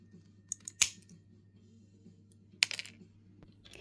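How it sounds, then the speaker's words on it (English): Scissors snipping small mosaic tiles in half, two distinct crisp snaps with little clicks around them, close and quiet against a faint hum. "I'm just going to cut the little tiles into 2 down the middle"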